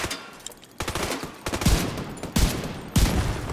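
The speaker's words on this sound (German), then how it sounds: "Mit der Pistole schieße ich hier" Pistol shots ring out in The Division 2, a few sharp reports in quick bursts with short pauses between volleys, loud and close.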